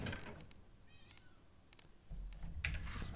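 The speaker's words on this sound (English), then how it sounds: "I can hear my cat crying." A house cat cries with faint, high meows behind a game's sound effects and quiet clicking, with thumps and rustles near the end.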